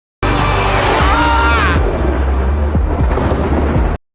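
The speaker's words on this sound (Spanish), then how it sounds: "Se oye un trueno" Deep rolling thunder rumbles loudly through the whole stretch, with a rising tonal sweep near the start and scattered low cracks, heard alone without talk.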